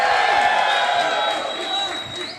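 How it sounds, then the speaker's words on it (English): A live crowd at a watchalong gathering in Los Angeles cheers and shouts continuously, a dense, fairly loud wash of voices and whoops that holds steady and eases slightly toward the end. "How's it going out there, crowd? Can I hear some noise, huh?"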